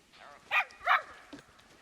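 Wolves at a reintroduction facility, with a pup among them, give two short yelping barks followed by a fainter yip, fairly close and sharp against a quiet background.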